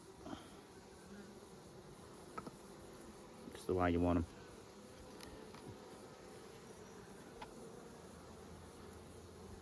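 Honeybees sitting on nucleus hive frames hum softly in a low, steady buzz, while a person speaks briefly midway.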